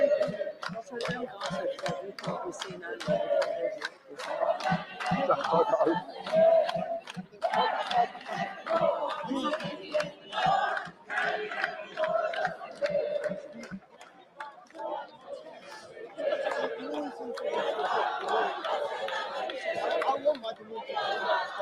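A crowd of protesters in masks and hoods shouts and chatters in a dense, continuous roar of many voices, with some individual voices rising above the mass and a brief lull partway through.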